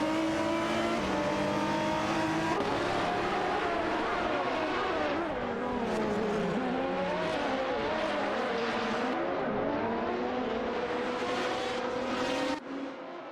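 A BMW M3 E46 GTR and a Nissan GTR race in a video game, their engines roaring in a sustained, loud drone with rising and falling revs and shifting tones throughout.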